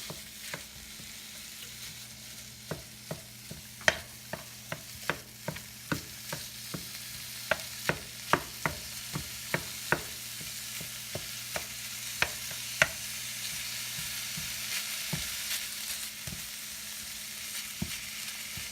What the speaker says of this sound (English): I'm going to take this meat once it's done and dump it in here and stir it around for a little while